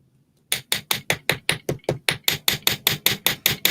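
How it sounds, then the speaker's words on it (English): Rapid, steady hammer taps on a small piece of metal earring wire, around fifteen sharp close strikes in an even rhythm after a brief quiet start. "So I'm going to hammer this one."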